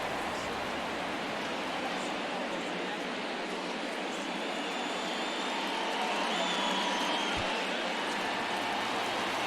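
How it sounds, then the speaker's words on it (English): Baseball stadium crowd noise in MLB The Show 23, Toronto Blue Jays versus Tampa Bay Rays, forms a dense, steady roar that fills the whole stretch, broad and wash-like, with no clear breaks or individual cheers. "you can feel this crowd waking up a bit here as the guys are starting to make some noise with their bats"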